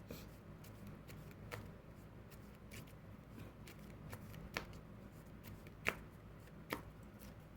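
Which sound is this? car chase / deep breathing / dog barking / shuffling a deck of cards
shuffling a deck of cards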